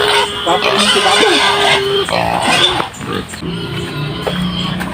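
A pig grunts and oinks in a noisy farm setting, with loud overlapping voices of people talking throughout and the animal sounds mixed in close by.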